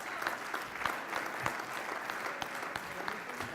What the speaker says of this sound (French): on peut le remercier en l'applaudissant